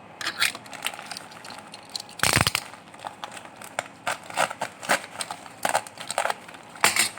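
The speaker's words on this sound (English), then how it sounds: "let's open this package" A package with simple packaging and no box is torn and crinkled open by hand, with scattered crackling, rustling and one loud ripping burst, close up, with faint talk at times.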